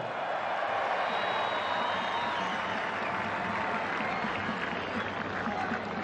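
A stadium crowd applauds and cheers steadily for Omani national football player Sami Al-Hasni at a welcome ceremony for the Gulf Cup 23 champions at Bawshar sports complex, dense continuous clapping throughout.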